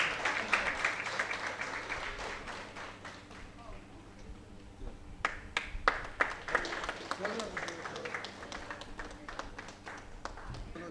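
Applause for a lifetime achievement award at a medical award ceremony, steady crowd clapping at moderate distance with a low hum beneath, a few louder claps standing out midway.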